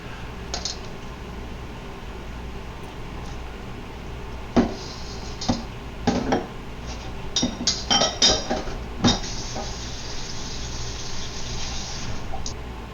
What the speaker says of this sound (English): you want to be constantly stirring the bottom up, otherwise it might burn and stick to the bottom of the pot of the wok